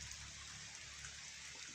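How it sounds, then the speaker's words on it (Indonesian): Steady rain falls across an oil palm plantation in Cibungur, Sukabumi, a constant broadband hiss of drops on leaves and ground, even and unbroken throughout, with no voices or other sounds standing out. "itu hujan"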